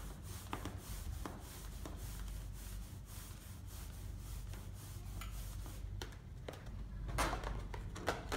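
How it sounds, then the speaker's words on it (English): A balloon rubbed against a woolen cloth gives close, steady scuffing and rubbing strokes for several seconds, with a few sharper squeaky bursts near the end and no talking. "First, rub the balloon on the woolen cloth."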